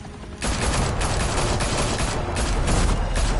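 Heavy continuous gunfire erupts after a brief quieter moment in a Batman game fight, a loud, dense barrage of rapid shots that keeps going to the end.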